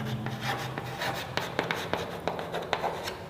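Pen or marker writing out a maths equation on a board, a steady scratchy rubbing with short sharp taps as strokes begin and end, close and fairly quiet with no talk.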